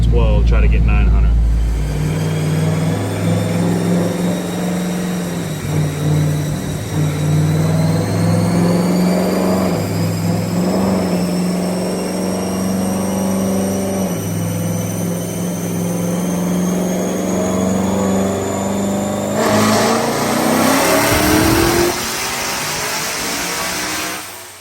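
A tuned street car engine making a full-throttle dyno pull at around 11.5 to 12 pounds of boost, aiming for roughly 900 horsepower. The loud engine note climbs steadily for about eighteen seconds, then drops away as the throttle lifts.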